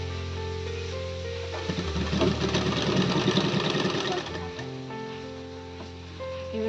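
A sewing machine stitches a kaftan nightie in a rapid, steady run through the middle, rising loud and then easing back to a low hum, with a voice talking over it.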